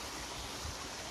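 The Solymar waterfall in Hungary gives a steady, faint broadband rush of falling water, heard briefly and from some distance with no other sounds.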